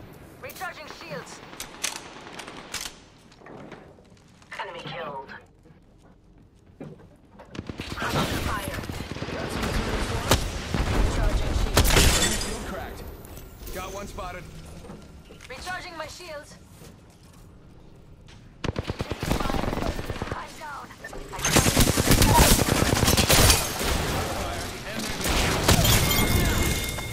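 Bursts of automatic gunfire in Apex Legends, with sharp, rapid fusillades separated by quieter gaps, the heaviest volleys loud and sustained, while brief character voice lines are spoken in between.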